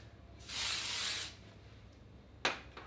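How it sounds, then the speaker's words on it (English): Beach spray from a pump bottle is misted onto hair while it is styled into waves: one long, loud hissing burst, then a second short spritz a moment later, heard alone with no talking. "I'm just gonna spray a little bit of the beach spray that we used before with my hair."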